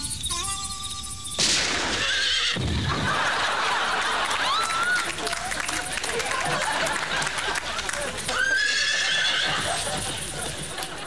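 A horse neighs and whinnies several times in rare old film footage, with hooves clip-clopping and a crowd chattering underneath, loud and busy throughout.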